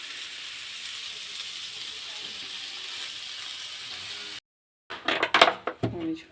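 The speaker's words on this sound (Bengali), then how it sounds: "তরকারি ভাজা হয়ে গেছে, জলটা দিয়ে দিই তরকারিতে" Water added to a pan of frying vegetable curry makes a steady hissing sizzle for several seconds. After a brief break, a voice speaks.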